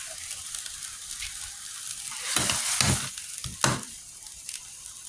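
Pancit chopsuey bubbling and sizzling in a pan as cornstarch goes in, with a steady frying hiss and a few louder stirring scrapes near the middle of the clip, close and with no talk.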